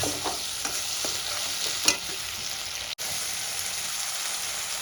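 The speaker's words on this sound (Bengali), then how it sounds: "পেঁয়াজ বাটাটা দিয়ে আমি ভালো করে কষিয়ে নেব" Onion paste is stir-fried in a pan, with a close, continuous sizzle and crackle. Stirring scrapes and clicks come through in the first half and stop for a brief moment near the middle.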